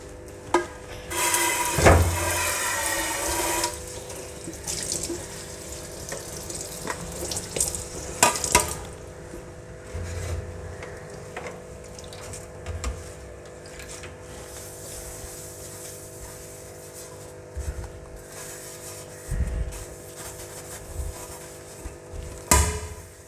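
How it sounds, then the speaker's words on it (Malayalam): Dishes and plates being washed at a kitchen sink under running tap water, with a loud gushing burst early on, then quieter splashing, scrubbing and occasional clatter, close by and with no voices. "അപ്പോൾ നമുക്ക് പാത്രം കഴുകാൻ തുടങ്ങാം."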